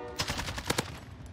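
Rapid automatic gunfire in the video game Warzone, a short burst of several quick cracking shots at moderate volume with no voices.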